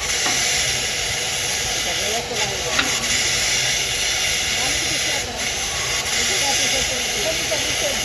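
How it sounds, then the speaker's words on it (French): Steam hissing steadily from beneath a stationary steam train at night, a loud continuous broadband hiss with a faint high whine above it and a few brief dips. "Ouais, regardez la vapeur d'eau par en dessous."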